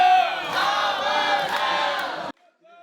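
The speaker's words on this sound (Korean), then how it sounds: "안타를 칠 때마다 환호가 터져나옵니다." Fans in baseball uniforms fill a cinema watching a Korea–Japan baseball broadcast and erupt in a loud crowd cheer and roar that swells and then cuts off abruptly, followed by near silence.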